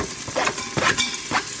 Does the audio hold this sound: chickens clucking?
no